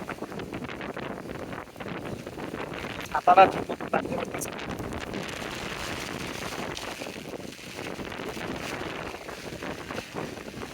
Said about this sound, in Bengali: যেমন বাতাস তেমন বৃষ্টি